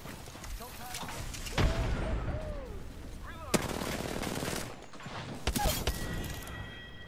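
Gunfire and shooting effects in Apex Legends, with sharp shots and bursts at about 1.6, 3.5 and 5.6 seconds over a steady bed of game noise and mechanical clatter.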